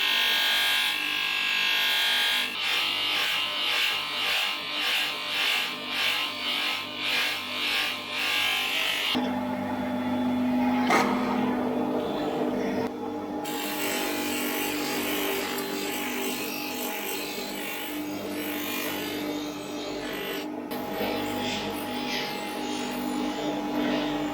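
Chrome motorcycle exhaust being buffed with a flat polishing wheel, a steady whirring grind running throughout with pulsing texture early on and shifts in pitch as the wheel works different areas.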